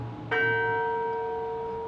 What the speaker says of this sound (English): these two bells, this bell here, and the one on the other side